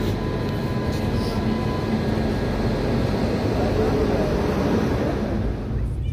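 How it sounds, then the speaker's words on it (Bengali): A commuter train pulls in at a station, a broad continuous rumble and roar that stays loud and even throughout, with faint squeals above it. "আর এই দিকে নেক্সট ট্রেনও চলে এসেছে।"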